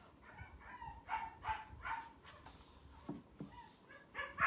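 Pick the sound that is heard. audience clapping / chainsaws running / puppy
puppy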